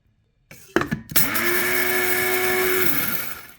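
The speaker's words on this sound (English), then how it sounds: "I got some flaxseed in the coffee grinder." A coffee grinder grinding flaxseed whirs loudly for about three seconds after a couple of clicks, its steady motor whine dropping off as it stops.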